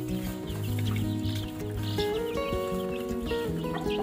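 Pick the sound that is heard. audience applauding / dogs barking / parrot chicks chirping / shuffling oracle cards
parrot chicks chirping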